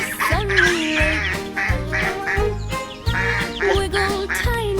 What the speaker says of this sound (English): Splash, splash, quack, quack, quack.